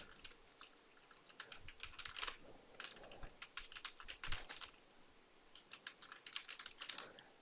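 Quick typing on a computer keyboard, with bursts of close, light key clicks broken by short pauses, fairly quiet and with no voice.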